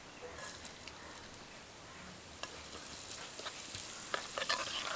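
Chopped ginger sizzles in leftover chicken-frying oil in a wok, a faint, soft crackle with light stirring scrapes that grow slightly busier near the end.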